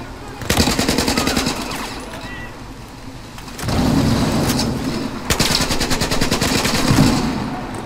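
Battlefield 4 gameplay with heavy, continuous machine-gun fire in long rapid bursts, loud and close, separated by short pauses. Someone talks at times under the shooting.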